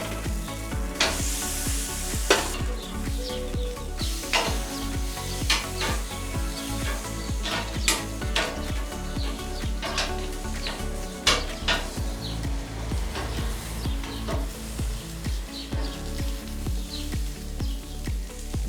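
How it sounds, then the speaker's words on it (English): Lemons and asparagus sizzle steadily on a very hot wood-fired barbecue, with a continuous close crackle broken by frequent clicks and taps of tongs and utensils against the grill. "The barbecue is really hot. So now I will start with the lemons."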